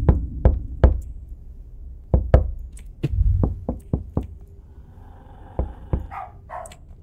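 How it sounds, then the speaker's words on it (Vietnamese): Sharp, close knocks on a door in the horror video game Bark, struck in irregular groups of two to four hard raps, followed near the end by a few faint dog-like yips. "Mình nghe tiếng gõ cửa."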